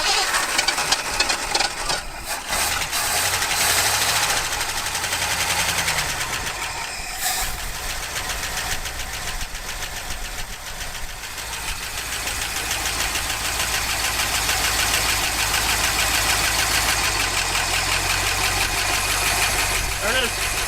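An abandoned Ford Bronco, off the road for 18 years, cranks and catches, then settles into a loud, rough, steady running engine close by with a slight knocking edge.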